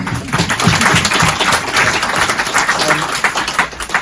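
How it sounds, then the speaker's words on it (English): Audience at a book talk with author Dan Jones giving a round of applause, lively uneven clapping from a modest crowd, close and fairly loud, with a few voices mixed in. "Big round of applause"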